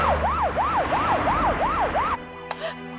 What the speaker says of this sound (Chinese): 这又来了几辆警车